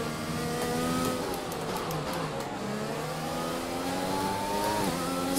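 Screaming F1 car engine in the F1 2020 video game at the Dutch Grand Prix, revving up and down through gear shifts in a continuous high-pitched racing drone with no talk.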